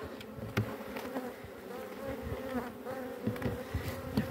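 Honey bees buzzing steadily around an opened beehive during a colony split, a dense continuous drone with individual bees passing close, with no voices.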